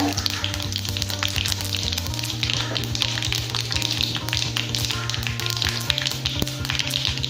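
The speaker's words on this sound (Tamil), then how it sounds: "அப்புறம் காஞ்ச மிளகாயை கிள்ளி சேர்த்துக்கிறேன்" Dried red chillies, pinched into pieces, hit hot oil while coconut-milk rasam is made in a Tamil kitchen, giving a steady loud sizzle and frying crackle with light tapping and stirring throughout, no talking.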